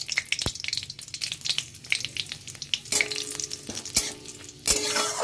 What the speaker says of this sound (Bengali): ফোড়নটা একটু ভালো করে ভেজে নিতে হবে